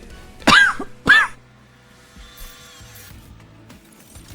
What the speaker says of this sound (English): Sometimes surprise coughing.